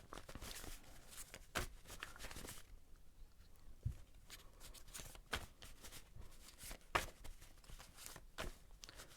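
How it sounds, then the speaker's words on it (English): Tarot cards being shuffled by hand, a faint, close series of soft riffling bursts and taps separated by quiet gaps, irregular in rhythm. "let's shuffle the cards and see what the"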